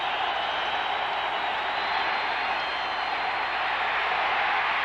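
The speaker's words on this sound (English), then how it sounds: "now the crowd getting into it here for the Denver Broncos" Dense, steady roar of a large stadium crowd at a 1992 Denver Broncos home game against the New York Jets, sustained and fairly loud throughout with no clear breaks or individual voices.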